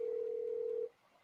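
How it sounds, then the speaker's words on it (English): Steady telephone dial tone heard while calling back, a single clear continuous hum that holds for just under a second and then cuts off into quiet background. "I'm going to call Holly back, and I'm going to put Holly on the phone"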